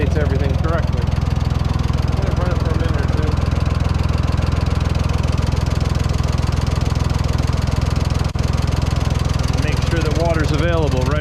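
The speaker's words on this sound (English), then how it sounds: "I'm going to run it for a minute or two." A Ford 4000 tractor engine idles steadily to warm up after a water pump repair, a close, loud, even diesel chug throughout, with someone talking over it.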